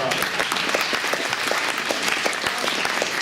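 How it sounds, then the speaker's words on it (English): A luncheon crowd at a 2018 Older American Month kickoff claps for the longest-serving member, producing a full, even round of applause that holds steady for a few seconds. "How about a round of applause for our,"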